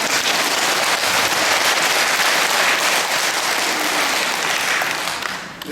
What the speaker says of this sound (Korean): 이 시점에서 우리 자매님들이 박수를 쳐야 됩니다.